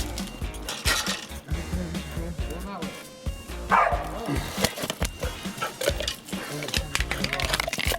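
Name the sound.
dog barking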